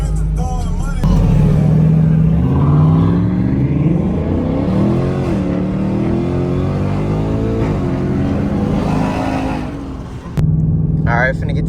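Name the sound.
car accelerating hard in a pull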